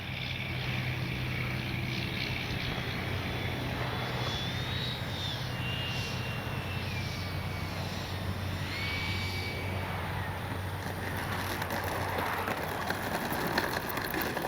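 A Freewing F-22 90mm electric ducted-fan RC jet flies past in wind, its turbine-like whine rising and falling in pitch as it passes, loud and continuous over a low rumble.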